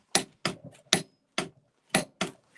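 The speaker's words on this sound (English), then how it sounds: "So you can hear how loud it is with the clicking" A torque wrench on a test rig, set to about 30 foot-pounds, gives six sharp, loud metallic clicks at irregular half-second gaps, close and clear with no talking.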